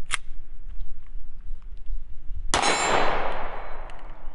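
Bullets from a Hi-Point C9 pistol striking steel targets: a faint early ping, then one loud bright clang ringing out over steady outdoor background noise.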